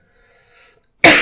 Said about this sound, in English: this is going to be funny if I cough every time I talk